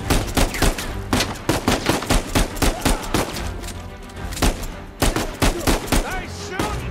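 Dense Uncharted 4: A Thief's End gunfire rattles in rapid, loud bursts of overlapping shots with brief gaps between volleys.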